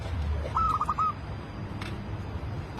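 A perkutut (zebra dove) raised up on its pole gives a short, clear cooing call of a few rolling notes, close and distinct over a quiet outdoor background.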